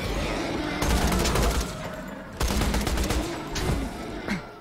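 Rapid gunfire crackles in bursts in the video game Borderlands 2, dense volleys starting and stopping amid game noise, loud and close.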